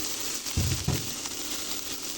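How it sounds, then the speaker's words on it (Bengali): Onions fry in oil in a pan for a dried fish (shutki) vorta, giving a steady soft sizzling hiss broken by a couple of low thumps from stirring, with no voices. "আমি প্রথমে কিছু পেঁয়াজ ভেজে নেব"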